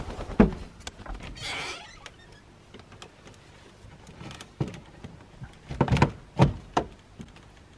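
A chicken coop door is opened and propped on a frozen winter morning, giving scattered knocks, scrapes and a few sharp thuds, fairly close with quiet gaps between.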